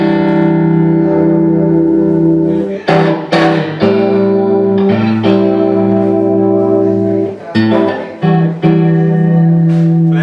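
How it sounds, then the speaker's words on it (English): A Yamaha keyboard plays sustained chords with a lush, reverberant, chorused tone from its built-in reverb and chorus effects, with a few brief breaks between phrases. "it's made by Yamaha, and it's got a few built-in effects like reverb and chorus"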